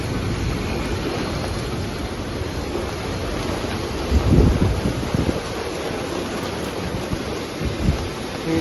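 Heavy rain pouring over Bhavnagar during a hailstorm, a dense continuous roar mixed with gusty wind buffeting the microphone, swelling louder for a moment midway.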